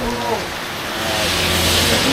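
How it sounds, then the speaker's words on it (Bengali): Heavy rain during a motorbike ride toward Lama, Bandarban, a loud, steady hiss of downpour close around, with a low engine-like hum underneath. "এত বৃষ্টি, অনেক ভিজে গেছে, আমাদের শরীর পুরো ভিজা"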